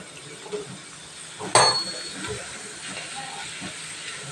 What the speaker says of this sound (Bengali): এবার আমি ছোট ছোট করে টুকরো করে রাখা পাঁপড় ভেজে নেব।